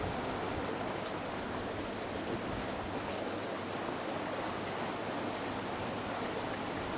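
Ocean waves breaking against rock formations off Bintan Island, a dense, unbroken hiss and rush of water that stays steady and fairly loud from start to finish.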